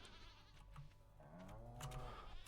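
Goats bleat on a farm in Stardew Valley, a couple of wavering, quavering calls in the second half over a low background hum, soft and nearby.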